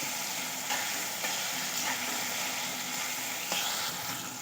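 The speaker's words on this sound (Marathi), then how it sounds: "केळ्याला पण छान असं तुपामध्ये छान फ्राय करून घ्यायचं आहे" Banana slices frying in ghee for Satyanarayan prasad sheera, a steady soft sizzle with faint stirring scrapes, close and even throughout with no talk.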